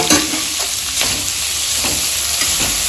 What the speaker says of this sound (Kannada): ಈರುಳ್ಳಿ ಕೂಡ ಒಂದು ನಿಮಿಷ ಚೆನ್ನಾಗಿ ಹುರ್ಕೊಂಡಿದ್ದೀನಿ